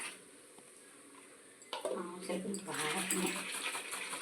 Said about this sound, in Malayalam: നമുക്ക് ഇച്ചിരി വെള്ളം ഇതിനകത്ത് ഒഴിച്ചു കൊടുക്കാം